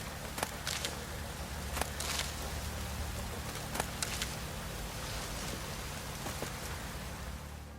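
Steady rain falling in The Witcher 3 game world, a soft even patter with occasional faint footsteps or thuds over a low hum.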